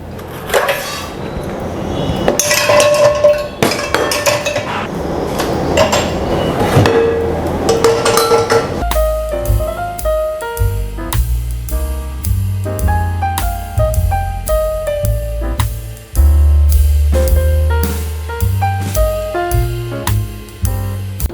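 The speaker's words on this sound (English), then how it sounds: "So now I have arranged all the dishes in the dishwasher." Dishes, pots and glassware clink and knock as they are loaded into the racks of a Bosch dishwasher, with repeated close hard impacts and rattles. Later there is a run of sharper tonal clinks.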